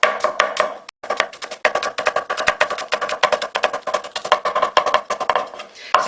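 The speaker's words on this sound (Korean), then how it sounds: "결대로 채를 썰어줍니다" Knife cutting a cored vegetable into thin strips along the grain on a cutting board, a rapid, steady run of close, crisp chopping strokes with one brief pause near the start, heard alone with no talk.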